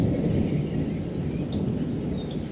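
Thunder rolls through a thunderstorm as a steady, loud low rumble lasting the whole stretch, with a faint hiss of rain above it and no voices.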